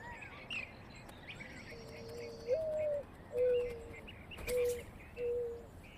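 Desert birds call on a Sonoran Desert morning among saguaros, giving several separate clear whistled notes, some rising, spaced about a second apart over a soft background of chirps and insect buzz, fairly close and moderately loud.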